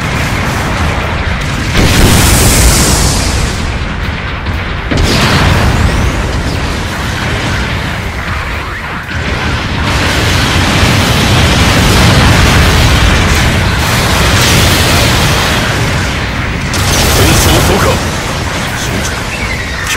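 Loud, continuous explosions and booming blasts from the mecha battle game Gundam Battle Operation 2, with repeated heavy impacts layered over rumbling combat noise for the whole stretch.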